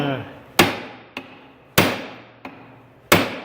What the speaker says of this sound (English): beat on it with a hammer a sec